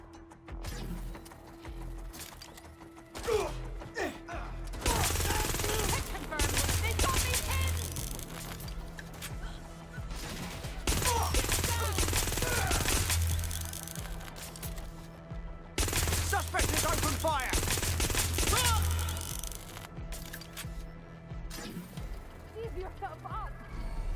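Gunfire bursts in the video game Watch Dogs Legion, with loud repeated volleys arriving in waves amid constant in-game chatter and noise.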